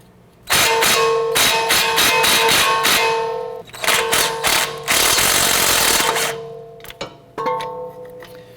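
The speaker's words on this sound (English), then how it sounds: "We're gonna use our 17mm wrench, slide over this, and get it onto the nut itself. Let's go ahead and loosen the nut here." A 17mm wrench loosening a strut nut on a 2009-2015 Honda Pilot gives loud, close, metallic ratcheting clicks in quick repeated bursts, with short pauses and a few sharper clanks between runs.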